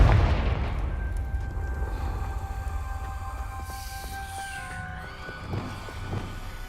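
A Confringo fire spell blast in the Hogwarts Legacy video game: a loud low boom at the start that rolls into a long rumbling decay, with faint tonal hum and a smaller thud near the end.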